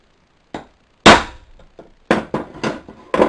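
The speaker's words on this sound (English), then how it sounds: "mark it and punch holes" Sharp metallic strikes of a hammer on a punch making holes in a metal strap, several blows in irregular bursts, close and loud with short ringing decays.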